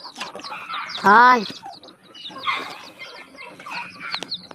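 Chicks and chickens cluck and peep close by, with a sharp burst of calls near the start of the second second and scattered chirps throughout, mixed with a person speaking.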